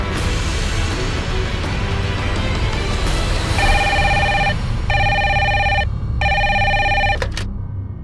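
A telephone bell rings in four short bursts with brief gaps between them, cutting sharply through a steady background hum before stopping abruptly.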